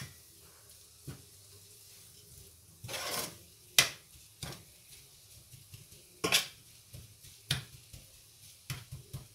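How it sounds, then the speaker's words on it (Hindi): Spiced potato and chicken samosa filling being stirred together in a pan, giving soft scraping and rubbing sounds with a few sharp clinks of a spoon against the metal, fairly quiet and intermittent. "अच्छी तरह मिक्स करेंगे कि मसाले इनके सारे मिक्स हो जाएं।"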